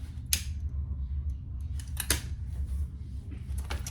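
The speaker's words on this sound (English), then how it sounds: "And then the excess on the top, I am cutting off." Scissors snip off excess zipper tape while sewing a zippered clutch bag: a few sharp, close cutting clicks spaced irregularly over a low steady hum, with no talk.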